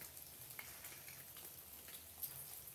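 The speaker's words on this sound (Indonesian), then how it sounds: "Hujan, ini masih hujan." Steady rain falls at night outside a reputedly haunted hospital in Kebumen, a dense soft patter with scattered close drop ticks, alone and fairly quiet.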